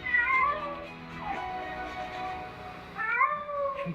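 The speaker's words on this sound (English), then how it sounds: "these people are committing an act of kindness, saving a kitten that fell into the sea" A kitten just rescued from the sea meows repeatedly, with loud, close, wavering cries at the start and again near the end and softer mewing between them.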